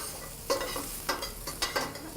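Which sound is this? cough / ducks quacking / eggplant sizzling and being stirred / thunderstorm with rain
eggplant sizzling and being stirred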